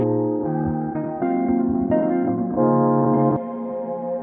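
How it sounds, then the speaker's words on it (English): A sustained music stem from a new track, with layered low notes and chords played alone and washed in heavy reverb and effects. The chords shift in steps every second or so and hold at a steady, fairly loud level. "This one's got more reverb on it."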